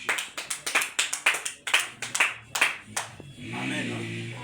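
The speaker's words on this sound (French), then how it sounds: "On acclame pour le Seigneur." Congregation clapping in acclamation during a church service: about a dozen brisk, rhythmic hand claps close by, giving way to a sustained murmur and a low voice at the end.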